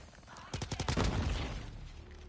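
An RPD light machine gun fires in Call of Duty Mobile: a rapid burst of sharp shots quickly blurs into a rolling, decaying boom, loud and close.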